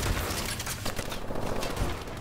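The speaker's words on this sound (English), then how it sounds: "See if I can kill somebody with a shotgun." Shotgun fire in a first-person shooter video game, a dense run of overlapping blasts and impacts throughout the short stretch with no talk.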